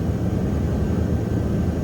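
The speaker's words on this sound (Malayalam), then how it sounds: "വിമാനം പടിഞ്ഞാറോട്ടാണ് പറക്കുന്നത്" Steady, loud low roar of a passenger airplane in flight toward Victoria Falls, heard from inside the cabin, an unbroken engine and air rumble with no talk.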